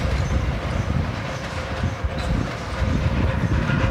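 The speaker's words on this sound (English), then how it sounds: "now it goes across the train bridge" A tourist train rumbles across a railway bridge beside the Venessla water sluice, a steady, loud, continuous roar of wheels and carriages filling the whole stretch without any talk.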